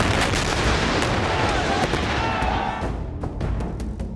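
Heavy gunfire and rocket-launcher blasts from a Taliban militant training exercise with AK-47 rifles, loud and dense, dense overlapping booms and cracks filling the whole stretch, easing slightly toward the end.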